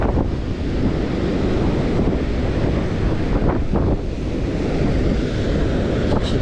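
Sea waves up to about two metres break against the shore during sea bass fishing, a loud steady roar of surf with wind buffeting the microphone throughout and no pauses.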